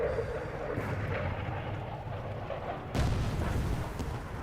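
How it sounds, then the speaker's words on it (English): An airstrike in the Cold War video game Headquarters lands as a deep, rumbling explosion that swells partway through and stays loud and boomy to the end. "There we go. An airstrike."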